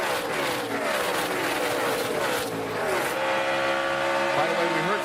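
NASCAR race cars come off turn four at Kansas Speedway, their engines making a dense, loud roar that rises and shifts in pitch as the pack passes, with crowd and track noise beneath.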